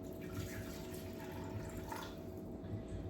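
Water pours steadily into a pressure cooker pot while making egg drop soup, a faint, continuous trickle and splash that runs the whole time with no talking.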